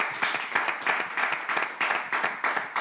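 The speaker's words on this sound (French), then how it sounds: "Et est-ce qu'on peut encore l'applaudir?" A studio audience on a French talk show claps in a steady rhythmic beat, the sharp claps repeating about three times a second, loud and close.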